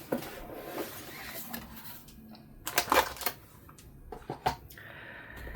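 A motherboard box is opened and its packaging handled, with scattered close rustles, cardboard taps and plastic crinkles in irregular bursts against a quiet background.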